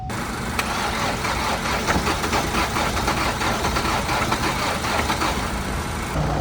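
An engine that has just been jump-started idles steadily, a loud, even mechanical hum and rattle running the whole time without talk.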